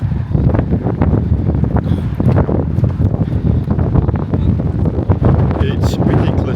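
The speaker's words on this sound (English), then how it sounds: "It's ridiculously windy." Strong seaside wind buffeting the microphone on a walk at Bognor Regis, a loud, constant roaring rumble with gusty swells throughout.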